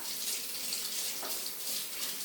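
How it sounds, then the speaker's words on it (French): Water runs from a kitchen tap into a sink while whisks are rinsed. It is a soft, steady, hissy splashing that stays faint and continuous, with no voices. "Je vais juste rincer mes fouets."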